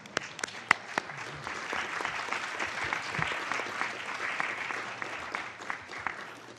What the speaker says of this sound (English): And applause for all of them